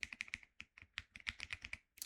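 Keys clack in a quick, uneven run on a Keychron Q6 HE 8K keyboard with linear switches, each keystroke crisp and close, with short pauses between bursts and no voices.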